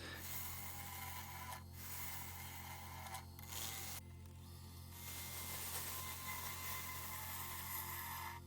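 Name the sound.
wood lathe hollowing driftwood bowl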